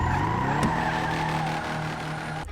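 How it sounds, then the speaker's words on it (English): Car drifting in GTA 5, a lowered, stanced car with engine droning and tires squealing in a long continuous skid, loud and close, with no talk. "go ahead and stance this car down, and we'll be ready to move on and get to sliding."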